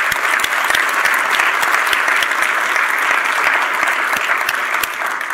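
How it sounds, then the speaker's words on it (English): Applause from the audience at a healthcare panel discussion, dense clapping from a full audience sustained for several seconds without a break. "I want to give a quick round of applause for our panelists here."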